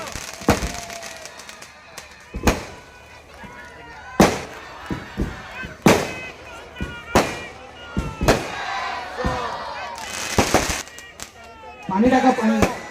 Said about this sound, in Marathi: फटाके बंद करा, त्याच्यावरती पाणी टाका.